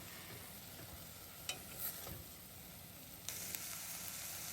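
Ground beef seasoned with salt and pepper being mixed with garlic and onions in oil in a pan, giving a soft, steady sizzle with occasional scraping stir strokes, fairly quiet and with no talk.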